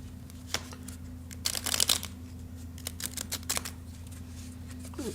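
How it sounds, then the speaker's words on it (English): Small tarot cards shuffled by hand, a quiet run of soft riffling and flicking bursts, clustered and irregular, close to the listener over a steady low hum. "These little cards are tough for me to shuffle with my clumsy fingers."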